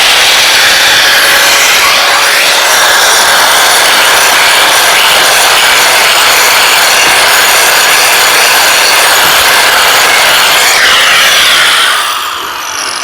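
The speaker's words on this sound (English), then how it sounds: "as long as you got a good grinder" A grinder grinds down small bumps on a concrete driveway, a loud, continuous abrasive rasp with high whine that runs steadily before easing off at the end.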